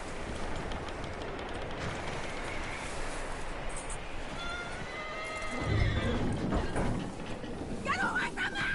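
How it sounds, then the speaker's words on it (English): A horse whinnies loudly over a busy Red Dead Redemption game soundscape with steady rumbling noise, followed by a few hoof clops and brief scuffling. "That looks like a decent horse. You should keep him."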